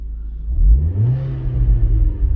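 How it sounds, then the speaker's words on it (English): A 2004 Audi B6 A4 1.8T Quattro with a custom cold air intake revs up loudly from a cold idle, a deep rumbling roar that rises and holds, heard close up from inside the car with no talking. "here's a cold rev from inside of the car"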